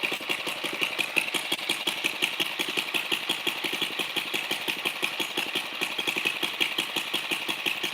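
A small tiller engine with blue smoke in its exhaust, treated with Seafoam, runs close and steady with a rapid, slightly uneven put-put firing rhythm over a constant mechanical rattle, no voices.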